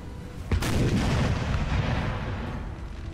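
Infantry volley fire in the Napoleonic battle game Napoleon: Total War, a sharp crack of massed muskets followed by a heavy, sustained rolling rumble of battle noise.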